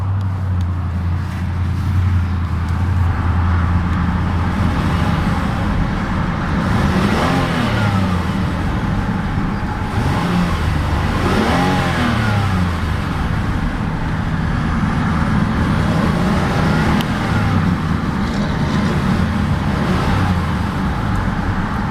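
A 2012 Hyundai Azera's 3.3-liter V6 runs at a loud, close idle and then revs up twice in smooth rising and falling sweeps before settling back to a steady hum.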